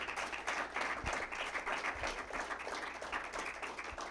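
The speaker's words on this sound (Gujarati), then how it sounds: "એ આપણે બધા એમના માટે એક ખૂબ તાળી વધાવવી પડે" Congregation at a weekly sabha breaks into steady applause, a thick field of hand claps with a few louder individual claps near the mic, lasting several seconds without talk.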